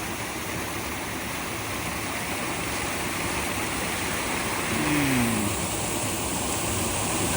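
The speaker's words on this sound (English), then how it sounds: "Well, I'm down past the waterfall." Rushing water from a waterfall and stream in a rocky canyon on a multi-day walk, a steady broadband roar that fills the whole clip without pause.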